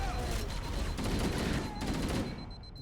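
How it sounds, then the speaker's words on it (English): Submachine gun fire from Halo: Combat Evolved, played in the Master Chief Collection on Heroic: dense, rapid automatic bursts that fill the clip, loud and close, with a faint voice mixed in. "Lots and lots of SMG spam."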